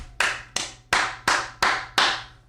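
Six sharp hand claps in a steady, slightly uneven rhythm, each a crisp, close slap with a short decay and no voices.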